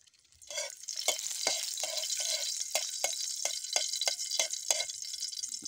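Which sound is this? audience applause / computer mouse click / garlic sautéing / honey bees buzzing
garlic sautéing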